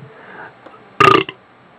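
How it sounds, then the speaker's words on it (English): A loud, abrupt burp erupts close to the mic after low background noise, lasting about a quarter second, followed by a short trailing gulp. "Oh fuck, that's a big burp."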